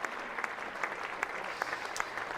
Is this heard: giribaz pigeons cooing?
no